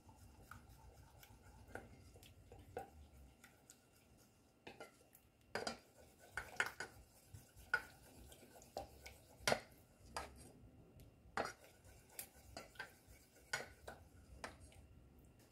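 A homemade skin cream mixture, still hot, is stirred in a bowl, with a utensil scraping and clinking against the sides in irregular close taps and rubs over a quiet background.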